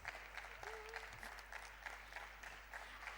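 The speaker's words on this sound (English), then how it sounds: "A big round of applause, guys." Audience at a youth summit applauding as a guest is welcomed onto the stage: steady, moderate clapping from a crowd that continues evenly throughout, heard from some distance and fairly faint.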